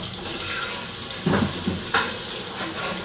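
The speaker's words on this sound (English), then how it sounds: "I gotta wash the damn spatula or the fucking grippers, tongs." A kitchen tap runs steadily while a spatula or tongs are rinsed under it, a loud continuous rush of water with a couple of brief splashy changes as the utensil moves through the stream.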